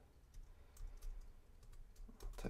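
Quick, soft keystrokes on a computer keyboard tap out an irregular run of clicks, close and quiet, with no talk over them.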